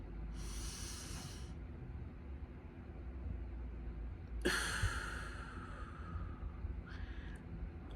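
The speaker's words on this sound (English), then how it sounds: "Take another deep breath in through your nose. Hold it, hold it, hold it, hold it. Exhale." Someone draws a long, audible breath in through the nose and later releases it in a breathy exhale, close to the listener, with a pause between the two.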